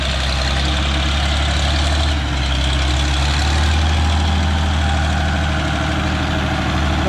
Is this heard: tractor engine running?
yes